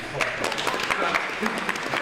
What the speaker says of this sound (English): Yes, you're supposed to clap.